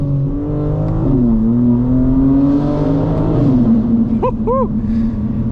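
A 900 hp 2025 BMW M4 Competition xDrive is driven in the rain. The loud engine rises and holds as it accelerates, then a couple of quick sharp chirps break through near the end.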